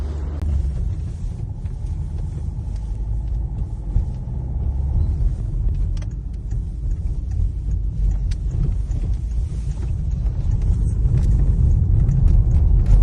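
A used car rolls over cobblestones from inside the cabin, giving a steady low rumble and road drone that holds at an even level for the whole stretch, with faint knocks over the stones and no talking.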